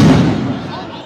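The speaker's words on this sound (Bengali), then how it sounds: "কয়েক দফা এখানে সাউন্ড গ্রেনেড নিক্ষেপ করা হয়েছে।" A police sound grenade thrown at a protest march toward Jamuna in Dhaka booms loudly and close, then decays into a rumbling tail as crowd noise continues.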